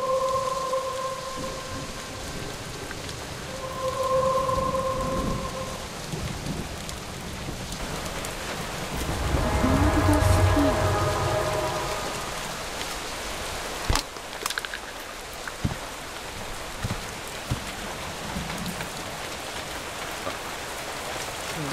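A thunderstorm with heavy rain from a video game opening movie: steady rain hiss throughout, a swelling rumble of thunder midway, and a sharp crack later, with tonal music elements over the downpour.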